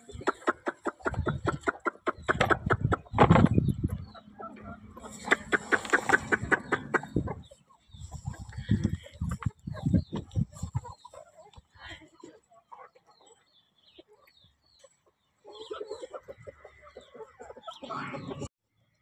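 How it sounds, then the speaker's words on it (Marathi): Chickens cluck and squawk close by while pecking at scattered grass, busy bursts of calls coming and going with quieter pauses between them. "बघा कशा कोंबड्या गवत खातात।"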